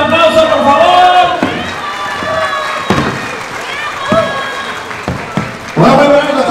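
Guests at a quinceañera party clapping and cheering, a loud crowd roar with applause and shouted voices, dipping briefly before surging again at the end.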